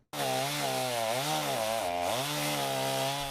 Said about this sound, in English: The sound of chainsaws symbolize recovery, rebuilding, relief.